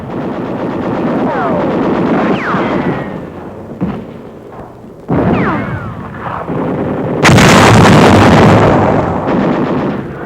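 Gunfire and artillery from a World War II Marine battle in a wartime newsreel, loud rattling bursts and booming blasts with whistling streaks, swelling into a dense barrage near the end.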